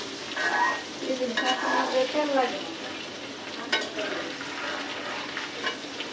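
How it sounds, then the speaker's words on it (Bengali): Hilsa fish fries in its own released oil after being flipped, a loud crackling sizzle with bursts of spitting and popping that settles into a steady hiss. "এই দেখেন মাছ কিন্তু অলরেডি মাছের তেলে ডুবে যাইতেছে, কি পরিমাণ তেল বের হইতেছে"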